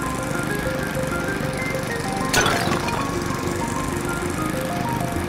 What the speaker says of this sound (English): Bro, I gotta mow some lawn.